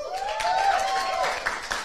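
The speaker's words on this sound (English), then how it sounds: "You got a cheer" A studio audience cheers and claps for a guest arriving on a live show, a short burst of applause with a clear whistle rising through it.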